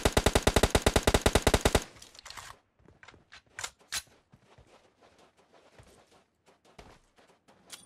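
Rapid burst of gunfire in PUBG Mobile on the Miramar map, a loud fast automatic volley of about a dozen shots up front, followed by scattered single shots, footsteps and handling noises at lower level.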